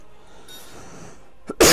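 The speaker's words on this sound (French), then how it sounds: "Désolé de vous casser les oreilles avec ma toux" A single short cough bursts out at the very end, close and loud, after quiet room noise.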